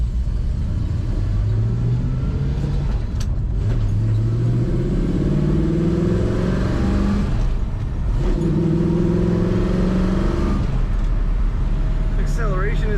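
A 1966 Ford Mustang tribute to the Shelby GT350H with a four-speed manual accelerating, engine note rising and falling through gear changes as a loud, continuous drive with a voice talking over it.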